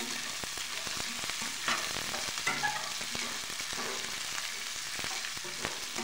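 Crushed peanuts and pigeon peas are sautéed in a pan, making a dense, continuous sizzle over repeated close stirring scrapes and taps of a spatula, with no talking.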